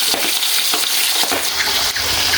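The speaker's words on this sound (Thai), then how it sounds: "การทอดปลานี่พีชีพมากเลยนะ" Soft-fleshed fish fries in hot oil, a loud, close, continuous crackling sizzle with bursts of popping spatter throughout.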